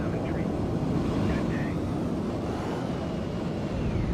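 An airliner's engines roar in a broad, steady rumble during a go-around in Microsoft Flight Simulator, a constant loud wash of noise throughout.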